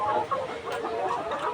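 Layer hens cluck and murmur together inside a poultry farm, a busy overlapping chorus of short calls close by with no speech.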